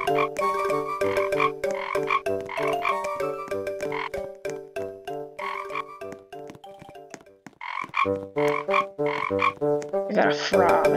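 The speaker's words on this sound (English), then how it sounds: "I got a frog." Frog croaking in a Roblox camping game, a loud, rapid series of repeated croaks pulsing steadily throughout with a brief pause near the middle.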